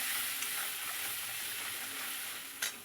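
Spice paste hits a sizzling tempering of ginger and slit green chillies for matar paneer, a steady, close frying hiss with a faint stirring scrape near the end and no talking.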